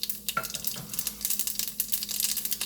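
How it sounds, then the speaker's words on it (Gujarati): Mustard seeds hit hot oil in a pan for an Indian zucchini curry, giving a dense, steady close-up sizzle with quick crackling pops throughout, no talking. "આમાં અડધી ચમચી રાઈ નાખીશું"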